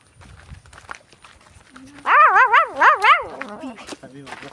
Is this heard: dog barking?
yes